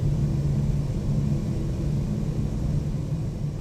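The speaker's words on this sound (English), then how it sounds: "I just forget how loud this airplane is" Loud, steady engine roar of an iniBuilds Airbus A340 heard from inside while taxiing at Shanghai Pudong in Microsoft Flight Simulator, a constant low rumble with a hum near 150 Hz, no talk over it.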